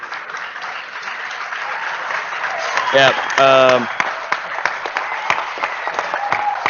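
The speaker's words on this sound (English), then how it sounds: "people clap for no reason" A crowd at a LAN gaming event claps continuously in a steady, moderately loud patter, with a brief voice and a couple of short tonal game sounds cutting through midway.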